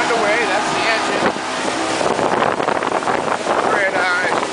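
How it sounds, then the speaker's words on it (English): A Mako motorboat engine runs underway near a port at speed, a loud steady drone mixed with rushing wind and water noise, with voices faintly audible over it. "that's the engine"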